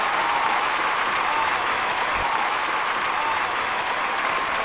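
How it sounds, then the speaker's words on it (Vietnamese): Applause from a television singing show audience, a continuous dense wash of clapping that holds at an even level throughout with no voices over it. "Vỗ tay quý vị ơi."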